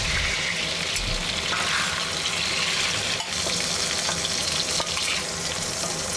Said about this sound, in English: over medium-low heat so the chicken drumsticks keep their shape while gaining golden brown color